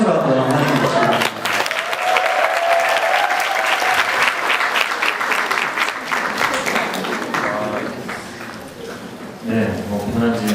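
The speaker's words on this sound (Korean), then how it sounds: "큰 박수로 한번 하는 것입니다." Church congregation breaking into loud applause after a short spoken line, the clapping swelling and then thinning out before a voice resumes talking.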